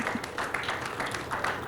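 Audience applause at a nationalist conclave, a steady wash of many hands clapping throughout at moderate loudness, with no clear voice on top.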